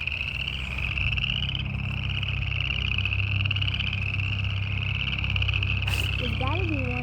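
Loud, steady frog chorus heard outdoors on a walk, a dense pulsing croak that carries throughout, with a short human voice briefly cutting in near the close.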